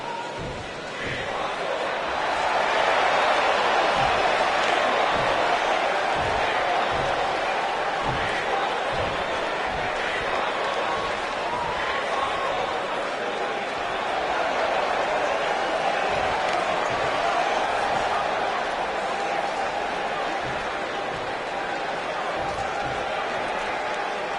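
A virtual wrestling arena crowd from WWE 2K19 on Monday Night Raw, a steady broad roar of cheering fans filling the whole stretch, loud and continuous with scattered thumps and stirring swells but no clear voices rising above it.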